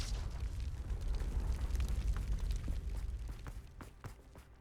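A Confringo fire spell blasts in the Hogwarts Legacy video game, a loud, deep rumbling explosion that roars steadily and then thins into scattered crackles and pops as it fades.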